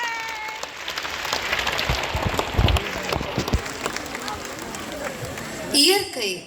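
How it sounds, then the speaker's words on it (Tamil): An audience applauds children's dance performers, a broad wash of clapping with crowd noise running steadily throughout, and a voice rises briefly near the end. "இம்மொட்டுக்களின் திறமையை பாராட்டி ஒரு வலிமையான கைத்தட்டல் கொடுக்கலாமே."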